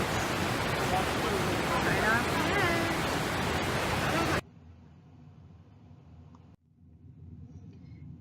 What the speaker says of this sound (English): Look at how fast that water moves.